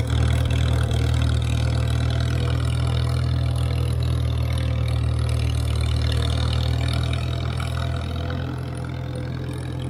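An International Harvester McCormick Farmall 350 tractor engine idles steadily and close, a loud, even low rumble with no revving across the whole stretch.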